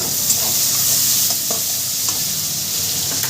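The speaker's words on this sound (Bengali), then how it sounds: "টমেটো টমেটোটা দিয়ে আমি দু মিনিট ভেজে নেব" Chopped tomato fries in a hot pan while being stirred, a steady close sizzle with scraping strokes of the spoon throughout and no talk.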